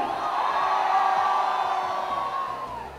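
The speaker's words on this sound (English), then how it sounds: "Crowd, come on, make some noise!" A college crowd at the Kshitij 2013 festival in India cheers and whoops, sustaining one loud collective shout that swells, holds for a few seconds, then fades away.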